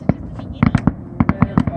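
Fourth of July fireworks bang out in a quick irregular string of sharp, loud bursts, several clustered close together, with a steady crackling background between them.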